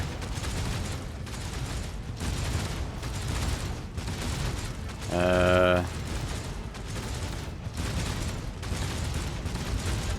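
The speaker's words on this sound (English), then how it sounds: "The Vox transmits the sounds of gunfire and death screams" Continuous dense bursts of rapid video-game gunfire rattle throughout, with a brief tonal horn-like blare cutting in midway; no clear screams stand out.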